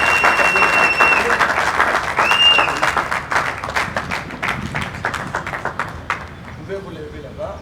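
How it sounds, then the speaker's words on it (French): An audience at a Kinshasa political gathering applauds loudly as a president is introduced, dense clapping mixed with cheers and voices, slowly thinning out toward the end. "Tumba sous vos applaudissements"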